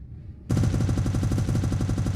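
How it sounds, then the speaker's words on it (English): Turret weapons in the space game Spacebourne 2 open fire on a target, a loud, sustained rapid-fire burst of repeating shots that starts abruptly after a quiet moment and continues steadily to the end. "activate your turret weapon group and fire away"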